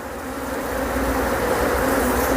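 Native Korean honeybees hum steadily at their hive, a dense, continuous buzz that swells slightly louder over the short stretch, heard close with no voices.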